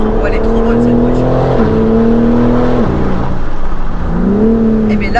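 A BMW M4 engine revs and accelerates from inside the car, with a loud, steady drone that rises, drops at gear changes and climbs again, while a voice talks over it.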